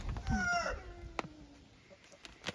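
Chickens in a backyard coop give a few clucks and short calls near the start, then fade into quieter scattered rustling and faint calls.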